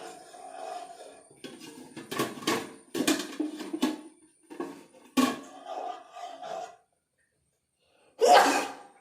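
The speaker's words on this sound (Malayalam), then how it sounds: "എനിക്ക് മസാല മണം കേട്ടാൽ തുമ്മൽ സ്റ്റാർട്ട്" Several sharp bursts of sneezing, close and loud, separated by short pauses, with a final explosive sneeze after a moment of silence.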